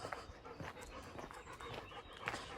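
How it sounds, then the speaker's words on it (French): A 10-month-old dog panting steadily and close by, with quick rhythmic breaths throughout, out in an avocado field, with no talk over it. "Ah, ma chienne est de retour."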